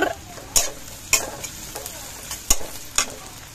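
Chopped onion frying in a pan while being stirred, with steady close sizzle and four sharp scraping knocks of the spoon against the pan, spaced unevenly and standing above the hiss.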